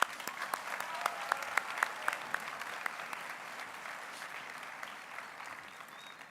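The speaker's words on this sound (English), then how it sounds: "One more round of applause." An audience applauds at a high school graduation ceremony, a moderately loud, sustained wash of clapping with a few sharper nearby claps, slowly tapering off toward the end.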